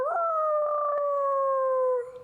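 A person imitates a wolf howl with a single long, steady, close voiced howl that holds its pitch before trailing off at the end.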